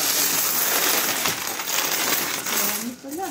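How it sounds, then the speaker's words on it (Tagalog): Coins spill out of a piggy bank in a steady, dense jingling cascade that runs for several seconds up close, then thins out as the flow ends. "Yung mga barya lang ang laman."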